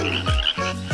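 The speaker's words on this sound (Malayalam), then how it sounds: "2 കുഞ്ഞൻ തവളകൾ മരത്തടിയിലിരിക്കുന്നു." Two small frogs sitting on a log give loud, close croaks, three bursts of low, pulsing grunts in quick succession with no talking.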